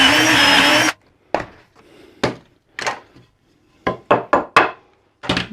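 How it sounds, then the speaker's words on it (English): A pocket hole drill briefly whines through pallet wood at the start, then stops, followed by a series of sharp wooden knocks and thunks as the workpiece is handled and reclamped on the bench. "reclamp it, drill the next hole."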